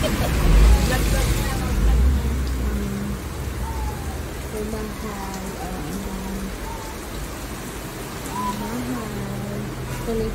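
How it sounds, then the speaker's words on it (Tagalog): Steady rain falls on a rural property in Tigaon, a broad even wash of patter with low rumbles, while people talk intermittently over it. "it's raining"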